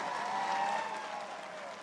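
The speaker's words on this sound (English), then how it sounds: "let's give a big round of applause to the men and women of the majestic USS Kearsarge" Steady applause from a crowd at the US Navy 250th anniversary celebration, a continuous wash of clapping that holds level and then eases slightly toward the end.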